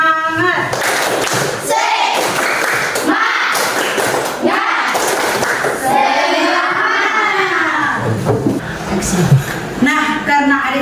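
Schoolchildren in a classroom perform the 'tepuk semangat' clapping chant, loud and close, with rhythmic bursts of group clapping mixed into a shouted chant led by voices.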